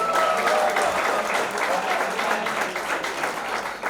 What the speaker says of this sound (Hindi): Huge round of applause, तालियां हो जाए सबके लिए।